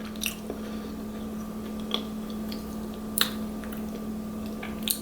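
Someone chewing a snack of homemade pumpkin hummus, with soft close mouth sounds and a few crisp bite clicks spaced irregularly over a low steady hum.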